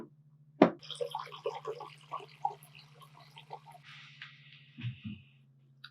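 Water splashes and trickles in a bowl close by, with a sharp knock at the start and some sloshing, over a steady low hum.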